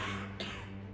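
A single short, sharp human cough bursts out over a steady low hum, close and fairly quiet, lasting only a moment.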